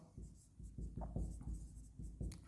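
A pen writing an accounting journal entry, heard as a close run of short scratchy strokes in uneven bursts, quiet and with no talk over them.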